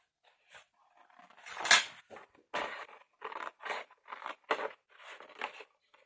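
Scissors cut straight across paper while making a perpetual calendar, a string of short crisp snips and slices with brief pauses between, close and fairly quiet.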